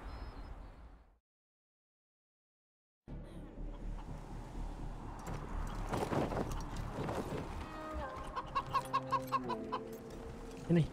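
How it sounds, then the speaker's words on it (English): Chickens cluck in Wasteland 3: after a second of noise and a silent gap, steady clucking runs through a busy game soundscape, with sharper repeated clucks near the end. "Can I tame the chicken?"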